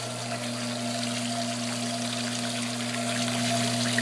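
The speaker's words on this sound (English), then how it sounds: "What was once a shower is now a trickle." Shower water reduced to a trickle after passing through a Cetus sieve, a steady splashing flow running continuously at moderate loudness, over a low steady hum.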